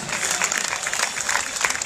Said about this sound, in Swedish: Applåderar vi åt Anders Dahlström.